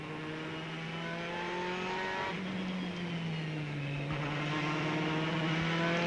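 A Ferrari race car during the Spa-Francorchamps 24 hours in 2006, heard as a loud, sustained engine tone climbing steadily in pitch through the gears, with brief dips at each shift and no talk over it.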